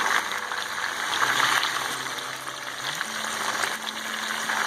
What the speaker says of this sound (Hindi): चिकन को हमें ज़्यादा फ्राई नहीं करना, जस्ट शैलो फ्राई करना है ताकि चिकन हमारा हार्ड हो जाए।